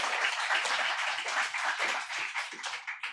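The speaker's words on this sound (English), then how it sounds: "Yes, please give them a round of applause" At a poetry reading in a theater, the audience claps in a brief, dense burst of applause that stays fairly loud and even throughout, with no voices over it.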